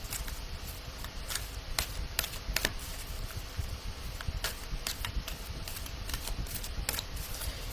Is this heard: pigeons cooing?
no